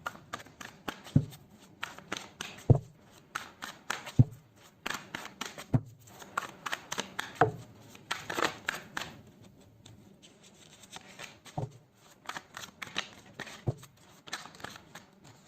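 Tarot cards are riffled and shuffled by hand, then drawn, giving repeated bursts of crisp card flutter and sharp slaps, fairly close, without any talk.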